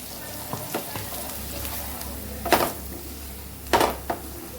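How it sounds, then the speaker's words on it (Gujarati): Coarse ground spice masala with green chilies sautéing on a very low flame for samosa filling, a gentle continuous sizzle broken by a few sharp spoon scrapes and clanks against the pan. "મસાલો એકદમ મસ્ત એવો સાતડી લેવાનો છે"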